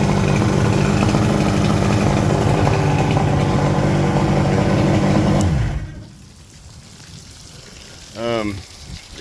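A 1979 Evinrude 100hp V4 two-stroke outboard motor runs loud and close at a fast idle around 1500 RPM, a steady rough drone that cuts off abruptly near the end, followed by a brief voice.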